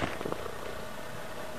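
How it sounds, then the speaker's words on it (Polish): A loud, steady rumbling purr from a cat close by, continuous throughout with a few soft bumps at the start. "A kto to tak mruczy głośno, co?"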